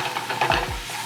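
Chianti red wine sauce is stirred in a steak pan, the spoon scraping up browned bits over a soft sizzle. It sounds close and brief, with no talking.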